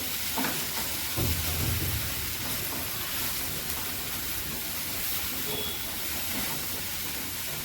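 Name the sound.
soybean chunks being sautéed in a pan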